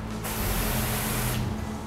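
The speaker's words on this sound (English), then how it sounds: "These are the wands we use to prep all the cars down." A car wash spray wand blasting water onto a car, a loud steady hiss that starts abruptly, holds for about a second, then cuts off, with no voices.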